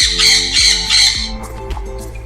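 Parrots of a breeding pair squawk loudly at close range, three harsh rhythmic calls followed by weaker, rougher squawks in a caged setup.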